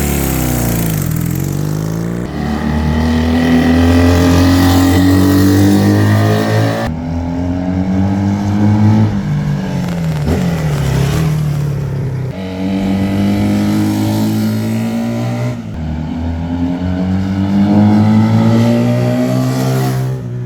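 A 1971 Honda CB175 Super Sport motorcycle engine revs up and down repeatedly, its small twin-cylinder note rising and falling in loud, close, uninterrupted cycles.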